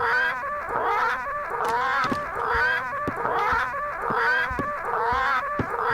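Parrots in the game Return to Monkey Island squawk loudly and repeatedly in a steady, rhythmic cycle of harsh, rooster-like cries, continuous for several seconds with no talking.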